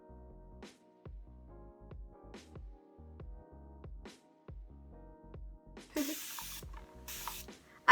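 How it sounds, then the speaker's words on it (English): A spray bottle filled with warm water spritzes natural hair in repeated short bursts with brief gaps between them, close and fairly quiet, with two louder hissing sprays near the end. "I'm just going to quickly use a spray bottle full of warm water just to saturate this section"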